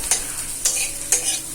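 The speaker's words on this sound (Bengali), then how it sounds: "শুকনো লঙ্কা একটু তেলে ফোড়ন দিয়ে এই যে একটু ভাজা ভাজা করবো পেঁয়াজটাকে" Onion and dried red chilli frying in hot oil while being stirred in a pan, with three quick scraping stir strokes over a soft, steady sizzle and no talking.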